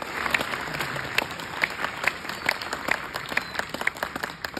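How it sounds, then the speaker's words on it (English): Audience applauding after a choir performance at a Christmas gala, with steady dense clapping and sharp individual claps standing out throughout, moderately close and sustained. "give them another round of applause"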